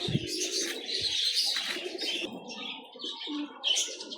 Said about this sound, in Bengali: কবুতরও আছে কত সুন্দর কবুতর